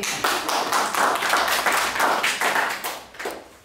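An audience applauds at a community outreach session on participatory election oversight for people with disabilities, giving a few seconds of brisk, steady clapping that fades toward the end.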